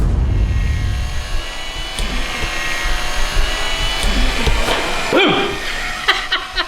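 An electric power steering pump on a Honda Civic runs with a continuous mechanical whirring drone throughout, with rising and falling tonal sweeps near the end, loud and close.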